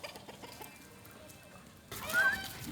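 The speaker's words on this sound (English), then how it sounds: "look, the chickens are having a sacrifice and the goats want to join in." Village chickens clucking in a farmyard with goats nearby, faint and distant at first, then louder and closer toward the end.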